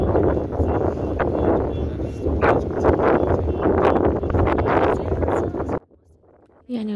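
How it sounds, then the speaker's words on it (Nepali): Strong mountain wind at Zuluk buffets the microphone in loud, gusty roaring bursts for several seconds, cutting out abruptly into near silence before returning. "यस्तो चल्दैछ हावा।"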